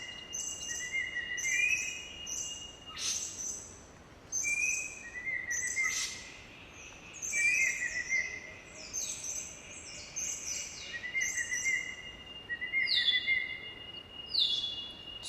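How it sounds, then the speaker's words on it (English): Papua New Guinea cloud forest birds, jewel babblers and birds of paradise, give repeated high whistles and chirps in short bursts over a quiet background. "This particular recording comes from the cloud forests in Papua New Guinea, and you'll hear birds like jewel babblers, birds of paradise, ground robins"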